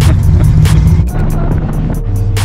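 The engine of a 1965 car runs loud and close, a steady low rumbling drone with a slight waver, alone without voices.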